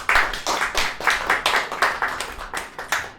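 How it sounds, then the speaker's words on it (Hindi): A congregation in church claps loudly and steadily in rhythmic unison, a dense run of repeated hand claps sounding close and continuous. "रूह कुदस के लिए जोरदार तालियां."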